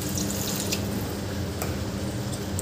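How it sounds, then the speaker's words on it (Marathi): Water goes into a pan of mixed vegetable curry, a continuous splashing, trickling pour heard close and fairly loud with a few sharp drip-like clinks. "या भाजीमध्ये मी किंचित पाणी घालत आहे"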